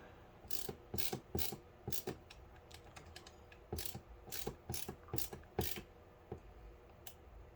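Screws being tightened with a ratcheting driver while mounting an Arctic Liquid Freezer III 360 A RGB White cooler, close quick bursts of clicking in short repeated runs, fairly quiet, with no talking.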